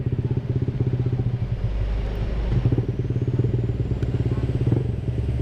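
Honda ADV 150 scooter idling with an R9 Alpha Series aftermarket exhaust, a steady, close, low burbling putter with a fast even pulse that holds throughout, with no voices over it.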